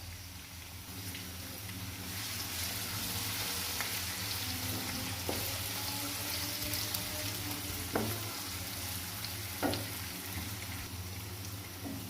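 Two chopped medium onions frying with cumin seeds in a pan, a soft even sizzle with a low hum underneath and occasional spoon scrapes and taps from stirring, steady and moderately quiet.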